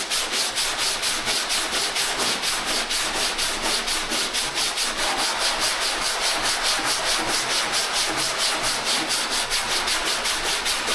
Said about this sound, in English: As far as sanding with these two fillers, they both sand very well.